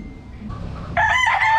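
Stag rooster from Red Gamefarm crowing once, close and loud, a short bright crow after a brief quiet lead-in.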